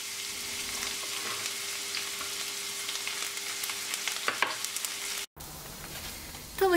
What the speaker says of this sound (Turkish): Tavayı ısıttıktan sonra biraz sıvı yağ koyuyorum ve biberleri kavurmaya alıyorum.